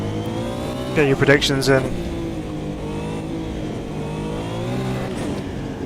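Engines of a Porsche 911 GT1 and a Lotus 79 in the racing game Automobilista 2, a steady droning roar with a sharp burst of revving early on, carrying on loudly beneath someone talking.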